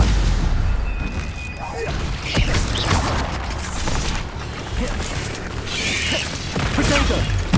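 Spells cast in combat in the video game Hogwarts Legacy, with repeated booming impacts and magical whooshes over a dense game soundscape while a voice calls out spell names.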